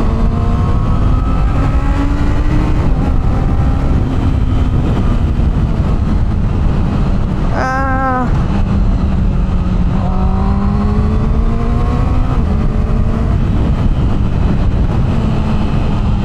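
Honda CB650R E-Clutch 2024 motorcycle engine pulling hard in third gear, a loud steady drone rising in pitch, with a brief upshift break partway through before climbing again, recorded up close from the rider's position.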